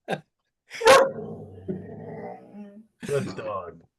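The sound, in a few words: dog barking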